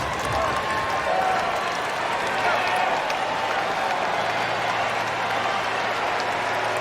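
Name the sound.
tennis stadium crowd cheering and applauding, US Open final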